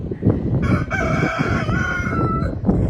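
Brahma chickens cluck and a rooster crows in a chicken yard outside a coop, the drawn-out crow carrying clearly over a steady bed of nearby clucking and scratching for about three seconds.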